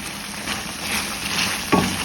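An onion and tomato jollof sauce simmers in a pot over medium heat with a steady, close sizzling hiss, and a single brief knock comes near the end.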